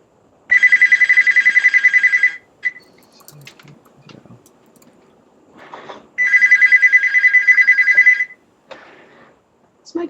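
A house telephone rings in two close, loud bursts of rapid trilling, each about two seconds long, separated by quieter room noise and faint movement.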